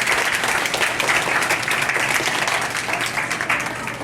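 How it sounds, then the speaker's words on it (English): Audience applause for a performer at a birthday party, a dense steady clapping from a crowd that fills the whole stretch and tapers slightly toward the end. "give her a nice big round of applause so she can see you guys clap"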